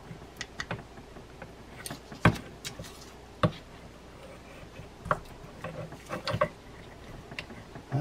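Metal parts of a vintage Olympic GVO 30 spin fishing reel are fitted back together by hand, giving scattered sharp clicks and small mechanical knocks at close range, quiet between the taps.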